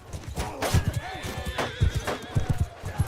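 A horse whinnies and neighs sharply in Mount & Blade II: Bannerlord battle action while struck, with clip-clopping hooves and low thuds pulsing beneath, loud and close.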